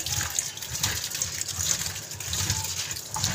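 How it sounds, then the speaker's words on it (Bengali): Tap water gushes steadily as Malabar spinach is washed under a faucet, a continuous close splashing rush with no talk. "আর পুঁই শাকটা এই যে ধুয়ে নিই আমি।"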